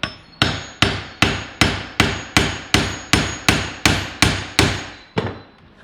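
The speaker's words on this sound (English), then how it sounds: "put that on your hard flat surface, and you'll hit right on those flat surfaces" A shotgun magazine tube from a Winchester SXP is struck against a hard flat surface, giving about a dozen sharp metallic knocks at a steady one-per-half-second pace, each ringing briefly, loud and close with no talking.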